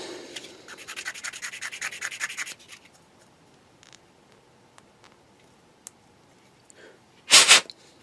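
Fine-grit sandpaper rubs over a 1/12 scale Bandai Boba Fett plastic model kit in a run of quick, close, rhythmic scratchy strokes, then stops, leaving a few faint ticks and a short, loud rustle near the end.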